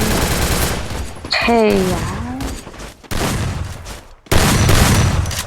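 Bursts of automatic gunfire rattle through a Free Fire match, loud rapid volleys broken by short pauses, with a rising whistle-like sweep in the middle and a player talking over the action.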